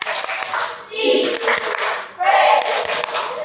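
A school class does the rhythmic Indonesian "Tepuk IPS" clapping cheer, bursts of group clapping mixed with children's chanting voices, loud and close in a classroom.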